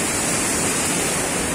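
Bhatinda Falls thunders nearby as an even, loud hiss and rumble of falling water, unchanging throughout and free of speech.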